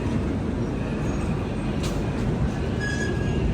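Steady rumble and rattle of a passenger express train pulling out of Jabalpur railway station on a slight curve, heard from inside the carriage, loud and continuous with faint wheel squeal.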